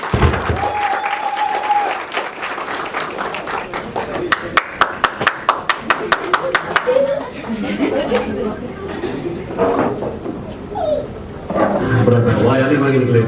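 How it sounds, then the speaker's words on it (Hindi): At an engagement celebration, an audience applauds Avantika and Akanksha, first with a burst of rhythmic, sharp claps, then loose applause and crowd chatter, with voices talking throughout. "अवंतिका और आकांक्षा के लिए जोरदार तालियां।"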